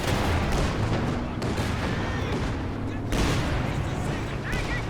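Artillery barrage in a Company of Heroes 2 four-versus-four battle, heavy thudding blasts and rolling explosions layered with gunfire, dense and loud, while a commentator talks over it.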